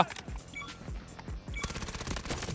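Rapid automatic gunfire in the Delta Force video game: several quick bursts of close, sharp shots in a steady rhythm, loud and alone, with no talking over them.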